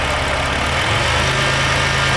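A Caravan's engine idles steadily, then rises slightly as a little gas is applied with the brake held, giving a low, rough, continuous hum close by with no talk.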